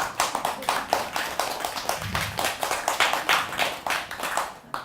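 Scattered hand clapping from a small audience at a Buddhist dharma talk on the Avatamsaka Sutra, with irregular, fairly close claps repeating through the whole stretch at moderate volume.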